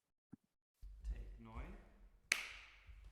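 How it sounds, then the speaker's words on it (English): A single clean hand clap, made to sync audio with video, lands as one sharp crisp snap. A person's voice is heard just before it, and the clap rings out briefly on its own. "a very nice clean clap"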